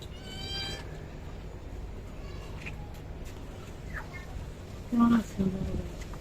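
A cat gives a short pair of meows toward the end, fairly close, over a steady background hum with faint voices nearby.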